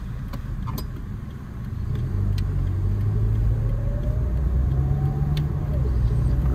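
Car engine droning steadily through a driving lesson on a road, a low rumble that swells slightly as it accelerates, with an instructor's voice talking intermittently over it.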